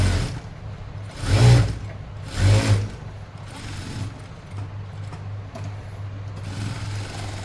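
A sewing machine stitches pant fabric with a low, steady motor hum. Two louder bursts of stitching come early on, then the hum continues evenly at close range.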